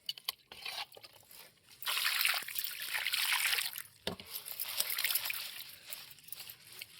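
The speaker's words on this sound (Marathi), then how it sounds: "आपण पाणी घालून आपल्याला स्वच्छ आता मुळा सगळं हे धुवून घ्यायचं" Tap water pours and trickles steadily while radishes are rinsed clean of soil in a home kitchen, with fuller splashing bursts that rise and fall throughout.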